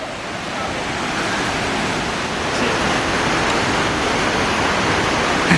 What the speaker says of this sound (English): You can almost hear the top of the waterfall now.